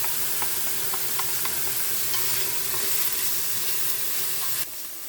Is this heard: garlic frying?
yes